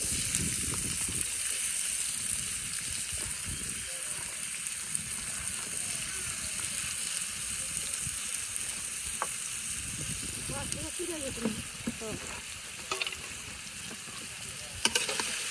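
Garlic, onion and green chillies fry in hot oil, a constant close hiss of sizzling with stirring scrapes and occasional sharp clicks, while a voice talks over it at times.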